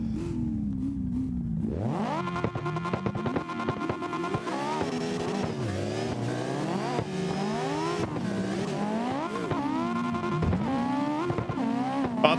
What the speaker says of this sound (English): Sounds like a race car behind me and a Miata pulls up next to you.